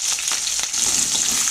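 Cumin, mustard seeds and green chilies fry in hot oil as a steady, bright sizzle close by. Faint crackles and stirring scrapes run through it, with no voices.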